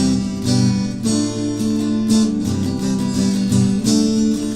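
Guitar plays the first bridge of a song, with steady strummed chords and sustained notes close up, with no voices.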